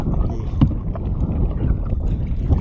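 A canoe being paddled across a windy lake in a wildlife reserve, with soft rhythmic paddle strokes and water splashes under constant low wind buffeting on the microphone, no talking.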